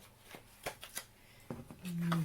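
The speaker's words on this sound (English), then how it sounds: "Now let's just do a quick tarot card throw." Tarot cards riffled and shuffled by hand in a few quick bursts, close up, with brief soft taps between them and a low hum near the end.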